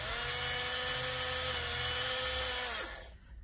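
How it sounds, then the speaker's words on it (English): A small high-pitched rotary drill whines steadily at close range, its tone dropping slightly as it bites, then winds down and stops near the end. "go ahead and drill a hole"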